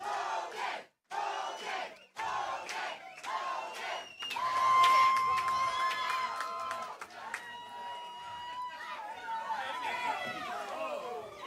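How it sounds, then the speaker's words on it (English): Arm wrestling match crowd chanting a wrestler's name, loud rhythmic group shouts that swell into sustained cheering and whooping, with chatter and scattered yells through a busy, echoing hall. "The crowd is loving it. They are chanting his name."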